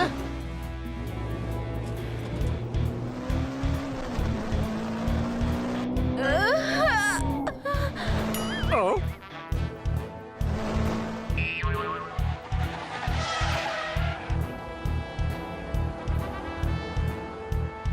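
Cartoon car speeding along with a rapid, pulsing engine rumble and whooshing effects, heard under animated character voices talking and exclaiming throughout, with squealing sound effects in the middle.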